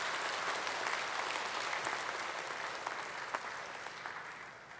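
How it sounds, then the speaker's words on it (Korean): Audience applause at a Korean diaspora world mission conference: dense, sustained clapping from a large crowd filling the whole stretch, steady and fairly loud, tapering slightly at the end. "목사님께도 감사의 박수 드리겠습니다"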